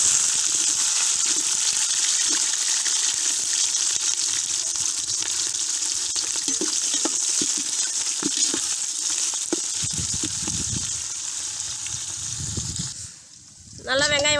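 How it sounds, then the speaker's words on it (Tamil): Onion fries in hot oil with fenugreek seeds and green chili in a pan. A loud, continuous sizzle carries throughout, with occasional stirring scrapes and a brief drop in intensity near the end. "வெங்காயம் போட்டுக்கிறேன்."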